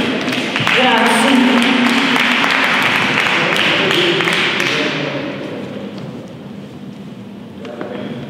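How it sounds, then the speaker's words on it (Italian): A crowd applauds loudly at an award ceremony in Rome, dense clapping that gradually fades away, leaving quieter room noise. "un applauso ancora"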